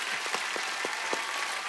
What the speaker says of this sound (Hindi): तालियां बनती हैं भाई आपके लिए।